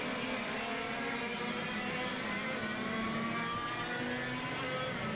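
Racing kart engines whine at the 1998 ICA European Championship in Valence, a steady droning blend of engines held at high revs, moderately distant and continuous.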